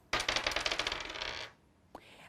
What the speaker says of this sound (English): 2 dice, ready to roll